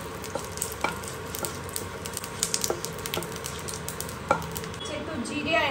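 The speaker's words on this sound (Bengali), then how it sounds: "সরষের তেল দিয়ে দিলাম, ফোড়নে দিচ্ছি জিরে" Cumin, bay leaf and dry red chillies crackle and sizzle in hot mustard oil, a close, continuous frying hiss scattered with sharp pops and stirring clicks.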